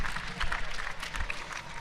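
Spectators at a neighbouring court 2 of a university sports event clapping and cheering, a scattered, fairly distant patter of applause and crowd noise that carries on steadily at low level.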